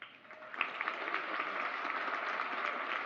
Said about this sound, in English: we'll do an applause and see how the room reacts